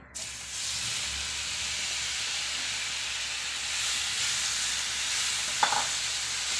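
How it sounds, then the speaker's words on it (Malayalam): Chopped banana fries in ghee in a kadai while being stirred, giving a steady, close sizzling hiss throughout with a brief clink near the end. "ചൂടായി വരുമ്പോഴത്തേക്കും നമുക്ക് അതിലോട്ട് നമ്മൾ അരിഞ്ഞു വെച്ചേക്കുന്ന പഴം ചേർത്ത് കൊടുക്കാം"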